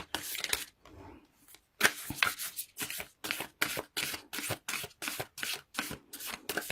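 An oracle card deck, Whispers of Love, shuffled by hand in a rapid run of crisp riffling bursts that repeat at a steady pace, close and fairly quiet, with no talking.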